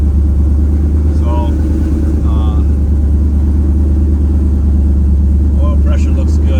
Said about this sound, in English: it's running at a high idle just because I just started it up